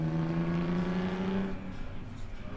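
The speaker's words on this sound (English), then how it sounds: "See if he finishes up with a couple drifts here to scrub the tires and clean them up from all that dirt" A drift car on a street league track holds a loud, steady engine drone while sliding to scrub dirt from its tires, then the pitch drops and the sound eases off.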